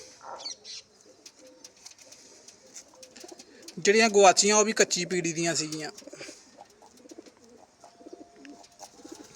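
A young yellow-eyed female pigeon coos in a short burst of soft, throaty notes close by, while someone talks before and after.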